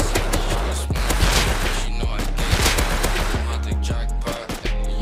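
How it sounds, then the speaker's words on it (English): Gunfire rages in the survival video game Rust, a loud, dense stream of rapid automatic shots and overlapping bursts that carries on without letup for the whole stretch. "What are you shooting at, bro?"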